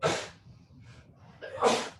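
A single close sneeze breaks out at the end of a yoga class, preceded by a sharp breath and a soft inhale in an otherwise quiet room.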